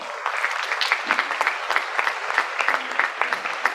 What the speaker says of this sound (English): Let's give one more big round of applause.